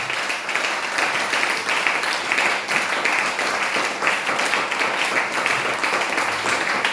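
A church congregation claps together at a French-speaking gathering, a dense steady wash of applause that holds at an even level throughout, with faint voices mixed in.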